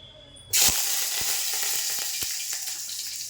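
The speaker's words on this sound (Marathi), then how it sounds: "चला आपण आता सर्वात आधी कढीपत्ता टाकूया." Curry leaves hit hot oil for a tadka with mustard and cumin, bursting into a sudden loud sizzle that keeps going, with small crackling pops scattered through the frying.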